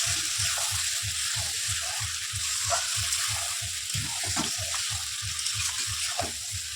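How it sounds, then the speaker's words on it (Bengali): Meat frying and being stirred in a pan at home, a steady sizzle with a regular scraping rhythm of stirring strokes, close and continuous with no talking. "এটাকে নাড়িয়ে চালিয়ে দিচ্ছি।"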